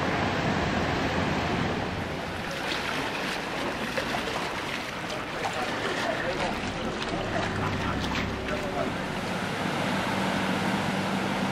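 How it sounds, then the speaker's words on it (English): Wind and water rush steadily past the deck of a lake ferry at St. Wolfgang, a continuous broadband whoosh with a faint low engine hum underneath and no clear voices. "this time from on board one of the frequent lake ferries that present a leisurely way of exploring the area"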